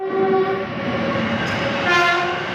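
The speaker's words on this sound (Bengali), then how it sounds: "ট্রেন আসছে চলো ট্রেন দেখাই" A goods train nears a closed level crossing. Its horn sounds in long, loud, steady blasts over the rumble of rolling wagons.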